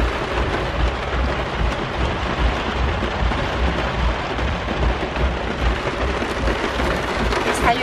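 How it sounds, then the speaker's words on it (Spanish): Very heavy rain pounding down during a drive, a dense continuous hiss and patter that stays steady and loud throughout, with no one talking. "Está lloviendo súper fuerte."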